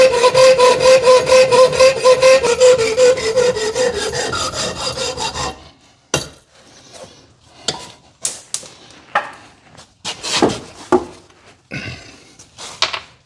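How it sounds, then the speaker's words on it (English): A small hacksaw cuts a quarter-inch threaded rod, starting with a steady, loud, rhythmic rasp of back-and-forth strokes, then giving way to scattered clanks and knocks as the piece comes free. "I might just take a little hacksaw and cut this off"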